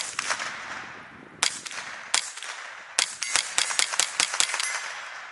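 Ruger 10/22 rifle firing 22 Thunderbolt ammunition outdoors, a string of sharp, loud cracks, with a few spaced shots followed by a rapid irregular burst near the end, no talking.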